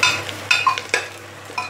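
Onions frying in a pan for a vegetable soyabean biryani, a soft steady sizzle with several brief scraping stirs of a utensil spaced across the moment, close and fairly quiet, no voices.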